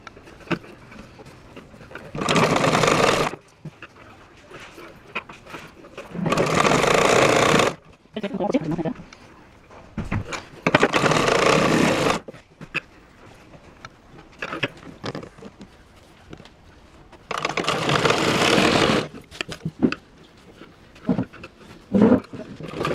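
A sewing machine stitches a simple blouse in four loud, whirring bursts of a few seconds each, separated by quieter stretches of handling and faint talk.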